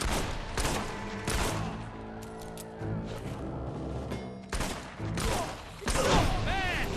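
Scattered gunshots and fusillade in the video game Fable 3, with sharp bursts breaking through a battle soundscape alongside voices and music.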